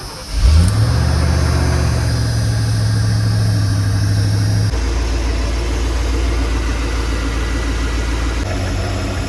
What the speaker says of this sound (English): after no bubbles come out, you can start the engine up.